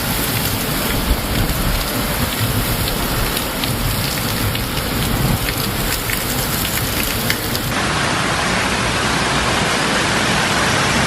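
Heavy rain pours steadily in Gurugram, a dense, even hiss of drops hitting surfaces throughout, with no voices.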